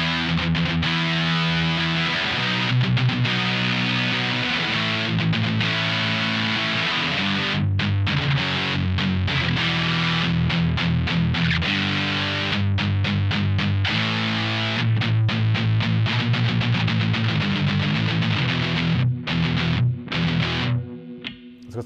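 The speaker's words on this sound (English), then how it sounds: "for the high gain sounds, I don't think you can go past the triple rec" An electric guitar through a Wampler Triple Wreck high-gain distortion pedal chugs heavy palm-muted riffs and sustained chords, loud and saturated, with rhythmic stops and bursts over twenty seconds of continuous playing.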